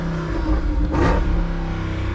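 The 6.4-litre HEMI V8 of a 2021 Jeep Wrangler roars close by in a brief, loud rev that swells and then settles back to a steady rumble.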